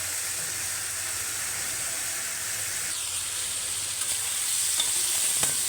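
Boiled gaji kochu (muhi taro) pieces go into a pan of fried prawns and are stirred, giving a loud, steady hiss of frying with soft scrapes and clicks of the stirring spoon near the end.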